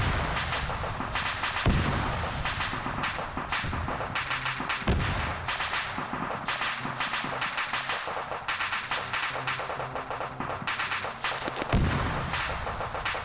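Gunfire in an Arma 3 mechanized battle between US and Russian forces: steady rattling automatic fire with heavier booming blasts every few seconds, loud and sustained, with no talk.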